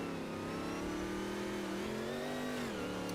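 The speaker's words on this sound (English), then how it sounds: "you can just hear in the revs as well how much he's pushing" A race car engine in a sim racing league game at the Salvador track revs hard and continuously, its pitch rising and dipping through gear changes, loud and close with no talk over it.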